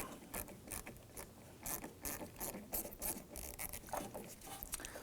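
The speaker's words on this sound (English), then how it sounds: "we're going to use a number 7mm socket to go ahead and loosen this hose clamp" Hand ratchet turning a 7mm socket to loosen a hose clamp on a 2003-2014 Volvo XC90 3.2L inline-six coolant reservoir, a rapid close series of sharp clicking pawl bursts in uneven rhythm.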